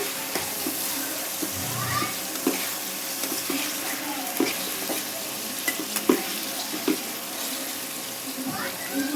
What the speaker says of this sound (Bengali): এক হাতে ক্যামেরার জন্য কড়াইতে এভাবে ঘুরছে